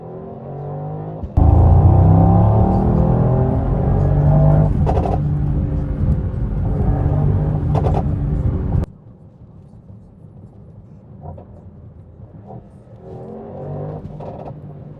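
A Mercedes-AMG GT coupe accelerates hard with a loud, rising engine roar for several seconds, then cuts off abruptly, leaving a quieter background.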